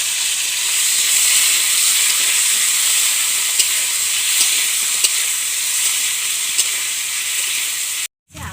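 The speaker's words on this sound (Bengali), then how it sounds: "আমি এখন আলু ভাজবো" Potatoes sizzle steadily in hot mustard oil during home cooking of a Kerala-style rohu fish curry, a continuous close hiss with a few faint clicks and stirring touches, cutting off abruptly near the end.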